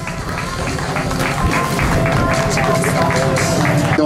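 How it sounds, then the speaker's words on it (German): Audience applause for the Tyrolean cycling team at a cycling tour race welcome, sustained dense clapping from a crowd with cheering and hubbub, steady and loud throughout. "Applaus, meine Damen und Herren, für die Tiroler."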